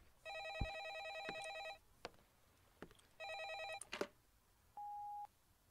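An old-style telephone bell rings twice in loud trilling bursts separated by thumps and clicks, followed by a short steady electronic beep.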